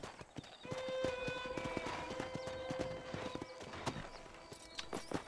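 Horse hooves clip-clop in Red Dead Redemption, a run of sharp, irregular hoof strikes with a horse's whinny in the middle, mixed with in-game ambience and tonal sounds.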